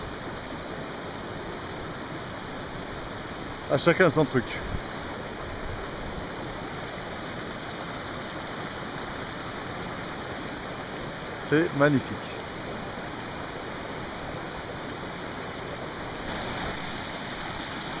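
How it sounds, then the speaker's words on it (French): A small waterfall on a hiking trail, steady broadband rush of falling water running continuously throughout, with a couple of brief bursts of people talking over it. "Oh, petite cascade."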